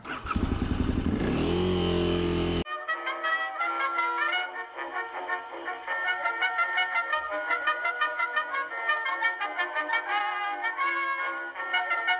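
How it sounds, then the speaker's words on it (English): A KTM Adventure 990 or 950 motorcycle fitted with a modified XS 1100 tank, ridden with a loud rough engine roar at the start that gives way to steady revving and gear changes, close up. "So now I'm on a KTM Adventure 990 or 950 with a XS 1100 modified tank."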